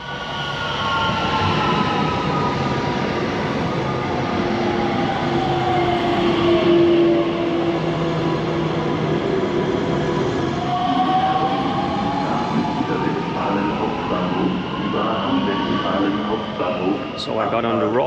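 A moving train in Germany rumbles steadily and loudly from inside the carriage, with faint wheel squeals, while voices talk over it.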